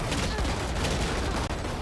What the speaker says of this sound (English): Just the gunfire in that trap there was just.